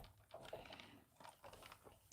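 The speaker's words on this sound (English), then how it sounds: "sorry if you hear my dog chewing the bone in the background" A dog gnaws on a bone in the background, making faint, irregular crunching and clicking bites spread across a couple of seconds.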